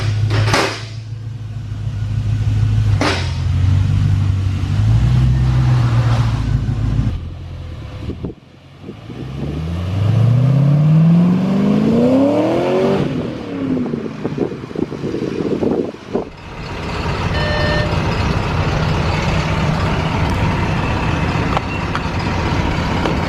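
A Honda S2000 fitted with a V8 engine drives off, its low engine note climbing through rising gears under wind buffeting, then settling back into a steady rumble as it cruises.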